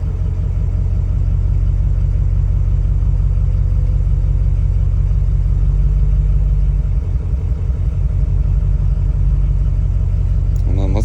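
A Ford 6.0 diesel truck engine idles loudly and close by with one injector killed, a deep, steady rumble whose rhythm turns rougher and lumpier near the end.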